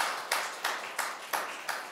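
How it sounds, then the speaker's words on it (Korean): A church congregation at a Sunday service claps in short, fairly faint bursts, several even beats of applause in a row. "우리의 찬양과 기도를 받은 하나님께 영광의 박수 올려드리겠습니다"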